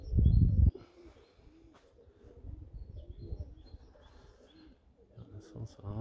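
Soft, low pigeon coos repeat on and off beneath a loud thump at the start, with some rustling and a voice nearby.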